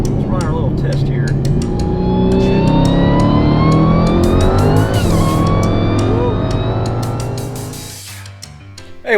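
A supercharged Dodge Hellcat with a 2.7 liter supercharger accelerates hard, its loud supercharger whine rising steadily in pitch through the run before easing off near the end, heard from close inside.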